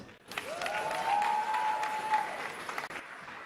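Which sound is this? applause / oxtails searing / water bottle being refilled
applause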